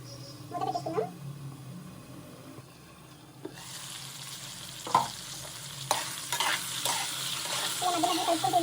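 Brinjals fry in oil in a pan, a quiet scrape and clink at first, then a louder broad sizzle swells up with repeated stirring scrapes and knocks of a spoon against the pan.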